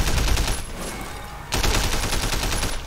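Gunfire in the Sleeping Dogs video game, a rapid burst of automatic shots that dips briefly, then resumes close and loud, with no talk.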